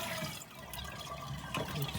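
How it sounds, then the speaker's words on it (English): Water drains out of a Schwab Fluidmaster 187.1200 concealed toilet cistern as the flush valve is lifted: a steady, fairly quiet gurgling rush that runs continuously for a couple of seconds. "We're just going to lift this up and let the water flush out."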